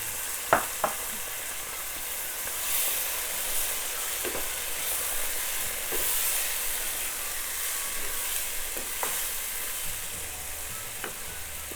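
Tomato puree sizzles steadily in a pan with ghee for jackfruit curry, a dense continuous frying hiss with occasional faint clinks of a stirring spoon, close and alone without talk.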